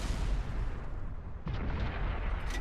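Tank cannon fire from an M48 Patton battle in the World of Tanks video game on Xbox One: a dense, rumbling battlefield roar with one sharp boom near the middle, followed by continued low gunfire and explosions.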